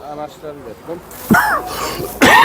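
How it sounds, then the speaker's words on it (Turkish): A few harsh coughs break out close to the microphone, spaced apart, after a person briefly speaks, at a poultry market in Tuzla, Istanbul. "Hastayım biraz. Öksürüyorum."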